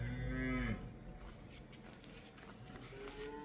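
A young bull for sale on a farm lets out a loud, close moo at the start, then gives way to quieter ambient farmyard sounds with faint shuffling.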